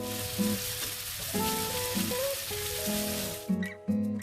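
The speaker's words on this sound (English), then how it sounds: "We're going to saute the onion in a hot pan with oil for 2 to 3 minutes." Onion and drained canned green beans sautéing in a hot oiled pan sizzle steadily up close, with a tonal hum and intermittent stirring bumps running throughout.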